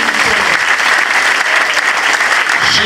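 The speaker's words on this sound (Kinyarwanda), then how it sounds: "Mumere Imana amashyi" Congregation applauding steadily inside a church service, a dense, continuous clatter of many hands sustained at full loudness throughout with no pauses.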